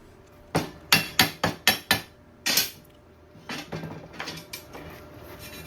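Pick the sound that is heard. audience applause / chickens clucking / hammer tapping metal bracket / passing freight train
hammer tapping metal bracket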